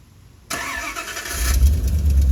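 A Dodge Ram pickup engine cranks and fires up via a Bulldog remote starter, a sudden loud start giving way to a steady, rumbling idle that stops cranking on its own once running.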